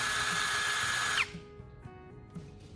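A power drill spinning a spark plug held in its chuck whines loudly at high speed for about a second, then cuts off and winds down, leaving quiet background with faint taps.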